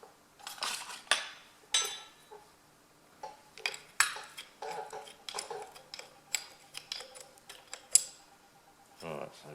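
A ring spanner clinks and ratchets against metal while bolts are tightened on a Ferguson FE35 tractor steering box, in irregular sharp metallic taps and scrapes with quiet gaps between them, close to the listener.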